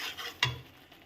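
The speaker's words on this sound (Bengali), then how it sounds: "দিয়ে এবার ভালো করে এটাকে কষিয়ে নেব, সুন্দর করে" Spice masala with coriander and cumin powder sautéed in a pan for a home-cooked cauliflower curry, soft sizzling with a single sharp spoon scrape against the pan, close and without speech.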